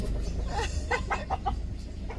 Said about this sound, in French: Le retour de la poule blanche.